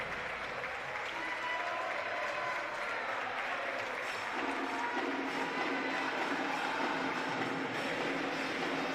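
A basketball arena crowd at a Boca Juniors versus Flamengo Champions League Americas game keeps up a broad, roaring applause that swells midway, heard at a distance with a rumbling hall ambience underneath.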